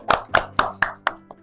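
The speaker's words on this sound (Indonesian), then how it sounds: "Berikan tepuk tangan yang gemuruh" About six slow, evenly spaced, sharp claps close by, fading slightly toward the end, as an audience welcomes a new madrasah head, Bapak Wahyu Hidayat, at a school event.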